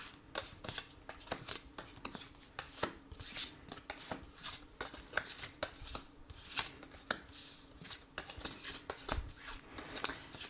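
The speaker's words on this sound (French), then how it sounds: "On va prendre nos 15 cartes." Tarot cards shuffled and handled on a table, with a steady run of soft riffling, sliding and tapping, close and fairly quiet, with no talking.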